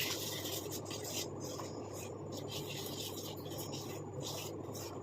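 Homemade herbal hair dye paste is stirred in a bowl, giving a faint, steady wet scraping and rubbing close by.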